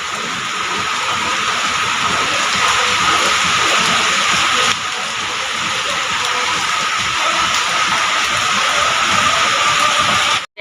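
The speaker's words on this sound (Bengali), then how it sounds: "দেখো কি বৃষ্টি হচ্ছে।" Heavy rain pours down in a steady, dense hiss that stays loud and unbroken for the whole stretch, with no voices over it.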